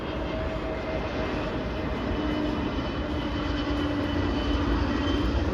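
An airplane passes overhead as a steady broad engine roar, holding even and continuous across the whole stretch with a faint tonal whine, and no one talks.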